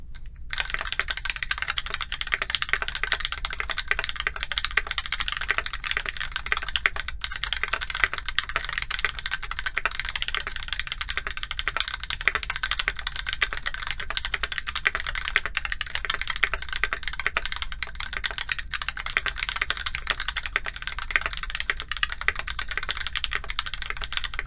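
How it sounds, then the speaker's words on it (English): Continuous, dense clacking from fast typing on an Orange80 aluminum mechanical keyboard that sounds like a hollow plastic case, steady and close throughout with no talking. "The expected sound from a dense aluminum keyboard would be muted, but this one just sounds like a plastic case."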